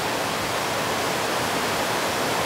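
A river flows in the Smoky Mountains near Townsend, Tennessee, a steady loud rushing wash of water, broad and even throughout, with no voices.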